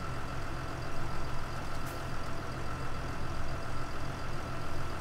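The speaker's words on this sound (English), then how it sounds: "The sound that the engine makes on this cat, you've got this sound that you're hearing." Caterpillar tractor engine in the video game Farming Simulator 2017, a steady low mechanical drone with mild rhythmic swells, fairly quiet and continuous, with no talking.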